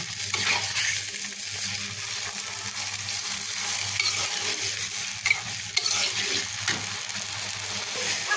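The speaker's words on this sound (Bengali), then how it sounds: "এবার আমি একটু নেড়ে চেড়ে পানিটা শুকিয়ে নেব।" Vegetables cooked with fried onion and garlic are stirred in a pan to dry off the water, giving repeated scraping and clinking strokes over a low continuous sizzle, close and alone.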